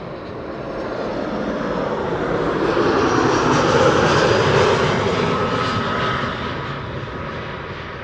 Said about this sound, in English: Vueling arriving from Barcelona